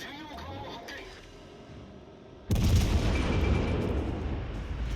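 Warship gun salvo in the naval battle game World of Warships Legends: after a quieter stretch of game ambience, a sudden loud boom erupts and a rumbling barrage sustains to the end.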